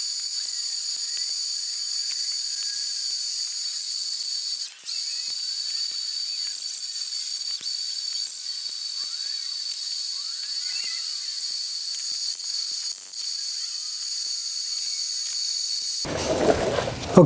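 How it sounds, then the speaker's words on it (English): Welding along the top of a truck tailgate makes a steady, thin, high-pitched hiss that runs for a long stretch, then ends in a sudden loud rush of noise at the very end. "I'm going to start welding the top here."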